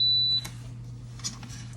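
A kitchen appliance gives a single short electronic beep as its start button is pressed, followed by a steady low hum and a few faint clicks.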